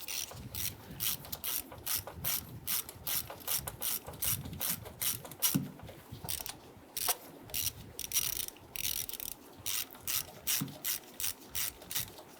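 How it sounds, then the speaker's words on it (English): Ratchet with a 7mm socket and extension loosening coil bolts on the intake of a 1994–2004 Ford Mustang 3.8L V6, fast rhythmic clicking in repeated bursts with short pauses, close and clear, no talking. "remove the bolts securing the coil to the intake. We're going to use a 7mm socket with our extension."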